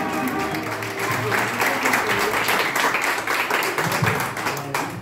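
An audience claps steadily at a birthday party with a mariachi band, brisk rhythmic applause filling the room alongside some crowd noise.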